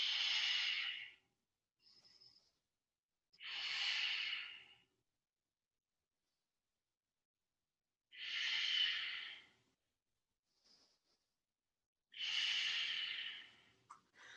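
Deep, slow breaths during a lizard pose in a yoga class come as four long, close, airy inhales and exhales separated by quiet pauses, with faint softer breaths between them.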